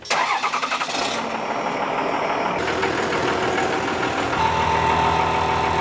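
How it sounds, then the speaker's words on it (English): An old truck with rear drum brakes is cranked and fires up, a stuttering start-up rhythm giving way to a loud, steady idle that picks up slightly toward the end; no talking. "I'm gonna just crank it up and let it run a little bit"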